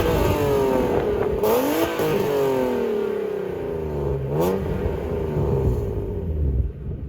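A BMW E36 M3 with a stroker engine, injector upgrade and custom exhaust revs hard through several rising and falling sweeps, loud and close, its note rumbling between throttle blips.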